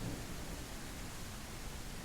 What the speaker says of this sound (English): If we see the rain falling, I do really like that.